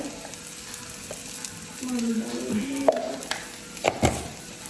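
Spices such as garam masala and chilli powder fry in a pan while being stirred, with a soft sizzle under clattering scrapes of a spoon against the pan, close and intermittent, no voices.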